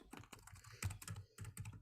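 Fingers tap quickly on a computer keyboard, close and quiet, in uneven bursts of sharp clicks with brief pauses between, and no talking over it.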